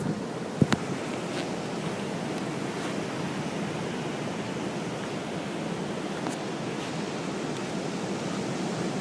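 Ocean surf washes steadily in a constant, broad hiss of breaking waves, with a brief knock near the start and faint gusty wind, and no voices.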